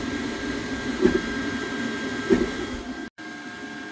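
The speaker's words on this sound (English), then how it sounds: "If you don't know, the Kobra is a very loud printer." An Anycubic Kobra S1 Combo 3D printer runs with a loud, steady fan whir and a faint motor hum, briefly cutting out near the end.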